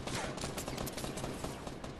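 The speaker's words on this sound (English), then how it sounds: "Let me shoot my teammate" Rapid bursts of gunfire in a Fortnite Battle Royale squad match as a player shoots a teammate, a dense crackling volley that runs continuously and loudly throughout.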